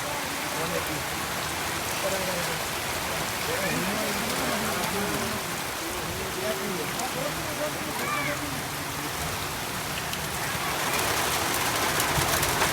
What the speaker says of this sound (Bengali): আমার এই জায়গায় প্রচুর বৃষ্টি